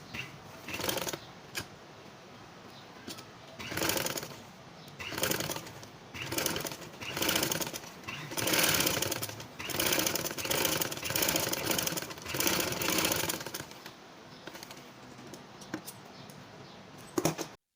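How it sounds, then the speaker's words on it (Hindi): A sewing machine stitches a sari in repeated bursts of rapid mechanical chatter separated by short pauses, close and fairly quiet, with no talking. "अब हम इसी तरह दूसरी साइड पर भी सिलाई चलाएंगे।"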